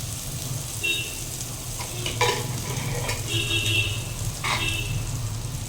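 Egg tadka sizzles in hot oil over a high flame in a dhaba-style preparation, a steady frying crackle with a few sharp clinks and scrapes of stirring, and no voices.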